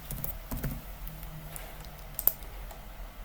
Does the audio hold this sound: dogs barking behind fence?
no